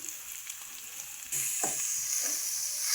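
Grated carrot hits a hot pan and sizzles loudly as it is fried and stirred, the hiss jumping up suddenly and staying strong with a few scraping stirs, no voices.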